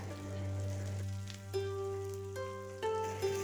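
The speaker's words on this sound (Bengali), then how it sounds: "এখন সবগুলো উপকরণ একসাথে কিছুক্ষণ ভেজে নেব।" Onion, green chili and ginger frying together in oil in a pan, a soft continuous sizzle beneath steady background music with a low hum.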